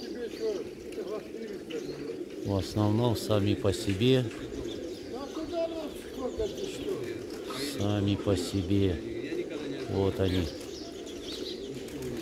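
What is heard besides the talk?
double-crested pigeons cooing while flying in flock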